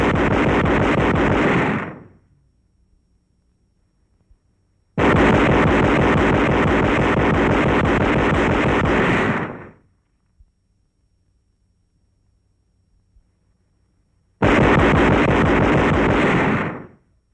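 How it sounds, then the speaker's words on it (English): A captured 20mm gun fires on enemy targets half a mile away, heard as three long, loud bursts of rapid automatic fire, each several seconds long, separated by silent pauses. "Employing the captured 20mm gun on 2nd January, enemy targets a half mile away are brought under indirect fire."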